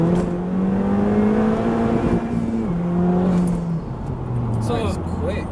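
Honda Civic Type R with its rear exhaust box deleted, engine droning steadily and shifting pitch as it pulls, heard from inside the car with a voice talking over it throughout.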